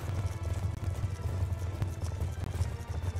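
Horse galloping in Call of Duty: Black Ops 2, a steady, dense run of hoofbeats with a heavy low rumble underneath, continuous and fairly loud throughout with no talking.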